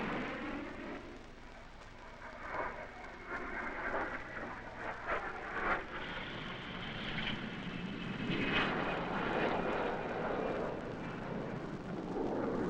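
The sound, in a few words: supersonic military aircraft flying, e.g. four-engine B-58 bomber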